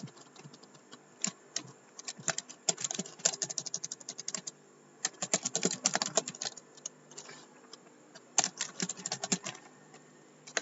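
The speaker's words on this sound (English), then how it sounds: "So you can type your name here." Keys clatter on a computer keyboard as details are entered into a resume template, in irregular bursts of rapid close-up taps with brief pauses between them.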